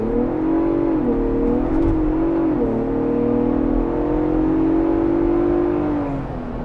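A Ford Bronco Raptor pulls hard as its turbos spool up, engine note climbing and holding in a strong, close drone over several seconds with a brief shift dip, no talking.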